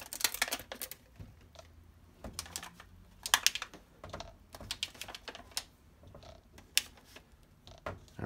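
A knife slices tomatoes in half on a cutting board while Aglio e Olio is prepared, giving a series of sharp, close taps and cuts at an uneven rhythm.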